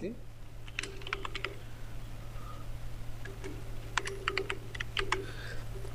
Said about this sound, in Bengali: আমি স্মার্ট ওয়াচ লিখে সার্চ করছি